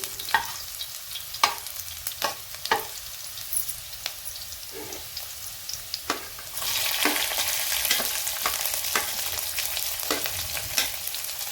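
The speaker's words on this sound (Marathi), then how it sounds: "आता आपण आधी थोडं बाजूला करू कांद्याला आणि मिरची परतून घेऊ" Green chillies and onion fry in a pan, a soft steady sizzle under repeated clicks and scrapes of stirring that grows denser and louder halfway through.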